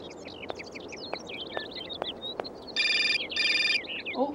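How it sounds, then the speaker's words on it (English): A telephone rings in the video game Syberia, two bright electronic bursts with a short gap between them, over a background of chirping birds and soft ticking clicks. "Oh, phone call."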